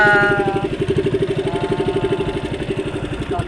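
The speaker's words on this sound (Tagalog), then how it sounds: "papaandar sa ating makina patungo sa ating direksyon, sa ating spot" Small engine on a night work outing running at a steady idle, a close, rhythmic pulsing chug that is loud and even and slowly fades slightly toward the end, with no voices.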